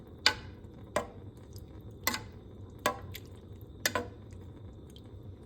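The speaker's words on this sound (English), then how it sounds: "Stir it up." A spoon stirs homemade beef chili with beans in a pot, making soft, close, wet squelches and light clicks spaced about a second apart against a quiet background.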